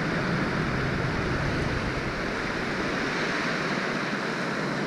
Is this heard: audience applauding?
no